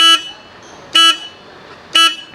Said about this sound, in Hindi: तो इसमें सिंगल टोन हॉर्न मिल जाता है।